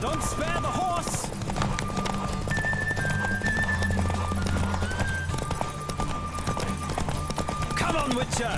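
Horse hooves clip-clopping at a gallop in The Witcher III: Wild Hunt, a steady rhythmic pounding close by and continuous, with a brief whinny and game music or a voice talking over it.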